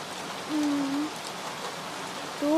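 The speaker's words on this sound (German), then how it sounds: "Aber es regnet immer noch." Soft, steady rainfall hisses evenly in the background, with a couple of faint tonal notes drifting over it.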